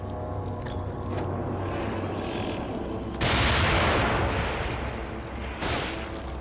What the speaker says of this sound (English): Joseph's shooting him.